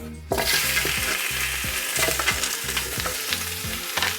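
Meat sears loudly in a hot pan for Filipino adobo, a dense close sizzle that bursts in abruptly and holds with crackling pops over a low rhythmic hum.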